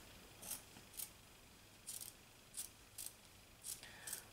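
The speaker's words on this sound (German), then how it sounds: "oder vielmehr scharfen Schere abgeschnitten." Small sharp scissors snip through fabric seam allowance during dressmaking, about eight crisp close cuts in an uneven rhythm over quiet room tone, with no speech.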